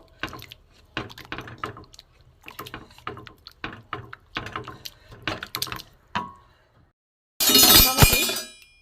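Boiled tomatoes are mashed with a wooden dal masher in a pot, giving a string of short wet clinks and squelches at close range. A sudden harsher, louder splashing burst comes at the end.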